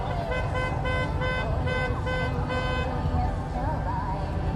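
Car horns honk repeatedly in a rhythmic pattern over loud traffic and crowd noise at an anti-Trudeau protest, with voices mixed into the din.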